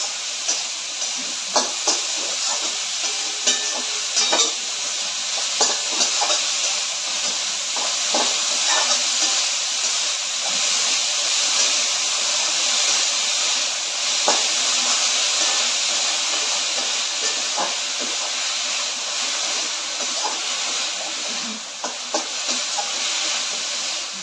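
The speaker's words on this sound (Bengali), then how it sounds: "এবার এটাকে আমি কষবো।" Chopped banana flower (mocha) sautés in a pan, giving a loud, steady sizzling hiss with scattered small pops and crackles throughout, close by and without speech.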